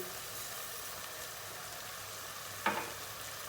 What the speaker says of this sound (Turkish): İçine bir buçuk su bardağı bulgur boşaltıyoruz.